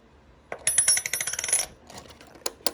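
Silver coins fall out of a cut-open bank roll with a burst of bright clinking and jingling, followed by a few scattered single clinks as the last coins settle.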